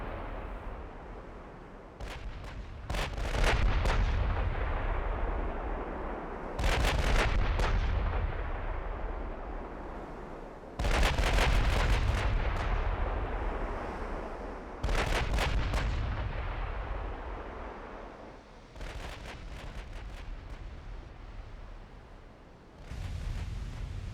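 Naval guns fire in a 1955 Ottoman campaign of the Ultimate Admiral: Dreadnoughts game, with heavy booming salvos roughly every four seconds, each rolling away into a long rumbling decay.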